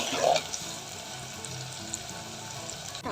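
Garlic cloves and curry leaves sautéing in oil for a fish gravy, a steady, fairly quiet sizzle with a few faint utensil touches, close by.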